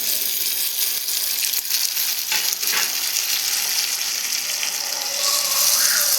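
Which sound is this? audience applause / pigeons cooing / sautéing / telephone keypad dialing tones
sautéing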